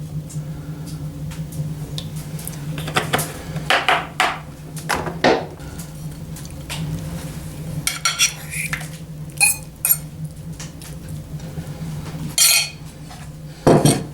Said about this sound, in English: I'm going to fry this meat in some olive oil.